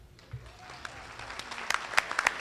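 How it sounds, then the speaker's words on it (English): Audience applause at a breakfast networking event starts faint and grows into sparse, sharp claps that build toward the end, fairly quiet overall. "So please give a rousing round of applause from WKU Owensboro, Kevin Dorth."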